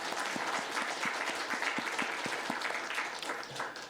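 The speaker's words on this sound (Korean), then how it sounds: "우리 박수로 한번." A church congregation at a Sunday worship service claps together in steady, evenly spaced rhythmic applause, sustained and moderately distant across the whole stretch, with no voices over it.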